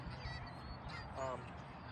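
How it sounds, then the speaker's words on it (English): Geese honk near a pond, with a few faint calls coming from a distance. A clearer honk sounds toward the end over soft outdoor background noise. "we got a lot of geese honking at us over there"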